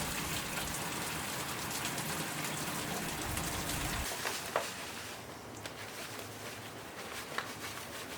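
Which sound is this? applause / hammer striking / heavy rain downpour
heavy rain downpour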